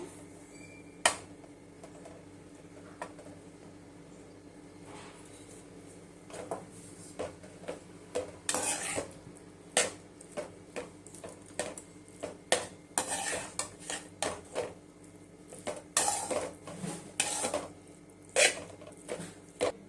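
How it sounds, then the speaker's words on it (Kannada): Cooked rice being mixed with tamarind gojju in a metal vessel, a spoon clinking and scraping against the sides in irregular bursts, close but soft, growing busier toward the end. "ಈಗ ಅನ್ನನ ಕಲಿಸ್ಕೊಳ್ಳೋಣ"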